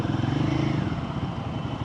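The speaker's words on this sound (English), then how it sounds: "This bike really doesn't do well in low RPMs on second gear, so I try and keep it neutral as much as possible." A motorcycle idles in neutral nearby during a ride, its engine putting out a steady, loud, low chugging putter that eases slightly toward the end.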